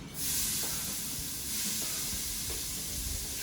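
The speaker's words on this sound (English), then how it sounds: "now we saute the onions in the bacon grease until soft" Onions sautéing in bacon grease produce a constant loud sizzling hiss from the pan, steady throughout with faint clicks underneath and no voices.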